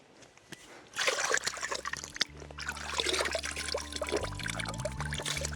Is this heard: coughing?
no